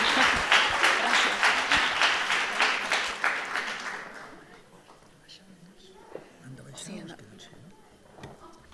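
An audience applauds at a Catalan school award gala after prize-winners thank the organisers, the clapping loud for a few seconds and then fading to scattered sounds with murmuring.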